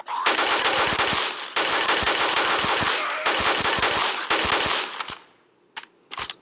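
Sustained bursts of machine gun fire from a zombie shooting video game, loud and dense, broken by short pauses before a few final scattered shots.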